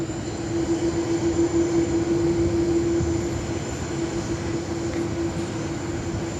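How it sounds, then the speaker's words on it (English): A Qantas Airbus A330 jet taxis out for departure at Sydney Airport, its engines producing a steady, moderately loud roar with a sustained whine running through it from start to finish. "So the Qantas 330 start rolling out now."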